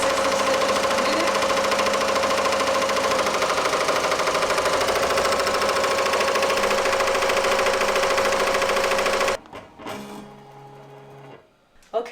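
A 15-needle embroidery machine stitches at 860 stitches per minute, a loud, steady mechanical whir with fast rhythmic clatter running continuously before stopping abruptly near the end, followed by brief quieter handling noises.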